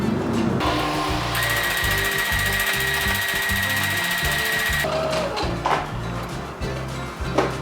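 A domestic sewing machine stitches with a twin needle while hemming knit fabric, running in a loud steady burst for several seconds before stopping, with lighter handling clatter before and after.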